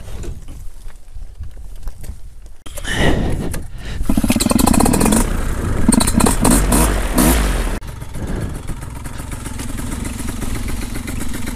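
A paramotor engine roars up loud and close for several seconds, then drops back to a lower, steady running note, with some clatter and wind around it.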